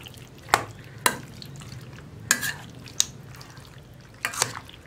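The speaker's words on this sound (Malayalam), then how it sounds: "ഇതെല്ലാം ചേർത്ത് നന്നായിട്ടൊന്ന് മിക്സ് ചെയ്ത് വയ്ക്കുക." Chicken is stirred through thick yogurt for a North Indian chicken curry, giving a handful of soft wet squelches and scrapes spaced about a second apart, close by and fairly quiet, with no voices.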